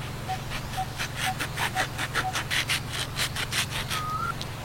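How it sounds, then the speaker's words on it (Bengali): A whole green-skinned mango with yellow flesh being cut with a blade, a close rhythmic series of rasping strokes, about a dozen in steady succession, over a low steady hum. "এবার আমি পুরো আমটা কাটছি।"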